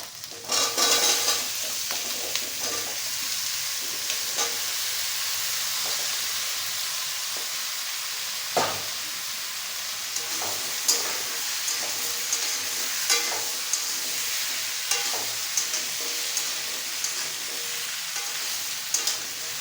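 Cut taro and potato frying in a pan, a constant bright sizzle and hiss running throughout, with intermittent scraping clicks and taps of a utensil stirring the pieces, close and steady with no talking.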